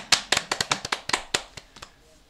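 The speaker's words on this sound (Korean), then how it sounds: "마지막으로 또 큰 박수 한번 보내주시기 바랍니다" A handful of separate, fairly loud claps from a small audience at the close of a Korean business seminar on digital healthcare, about a dozen uneven strikes that thin out and fade over two seconds.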